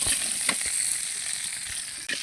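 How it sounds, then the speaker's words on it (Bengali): Potatoes fry in oil in a kadai pan, giving a steady, close sizzle and crackle with no voices over it. "আলুটা কড়াইয়ে ভেজে নেব।"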